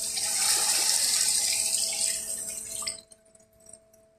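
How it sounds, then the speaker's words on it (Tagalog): Water pours steadily into a pan of pansit vegetables with carrots and beans, a loud rushing splash that runs for a few seconds and then stops, leaving faint drips. "Lagyan na po natin siya ng tubig."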